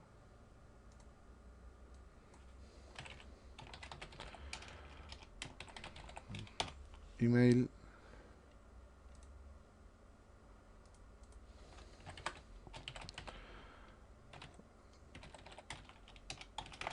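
Keys clatter in irregular bursts of typing on a computer keyboard, fairly quiet and close, with a brief spoken word partway through.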